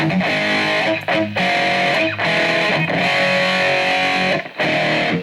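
Loud electric guitar with heavy overdrive distortion from DiMarzio Super Distortion pickups through a BOSS eBAND JS-10, sustained chords with brief breaks between them.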